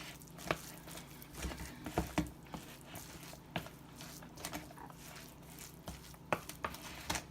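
Rice stirred into ground turkey in a pan for stuffed bell peppers, a low steady sizzle with scattered scraping and clinking spoon strokes at an uneven pace.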